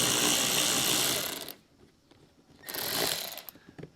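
A power driver with a T25 Torx bit spins out a screw from a 2023 Audi's front fascia, a loud whirring burst for about a second and a half, a pause, then a second shorter whir, with no talking.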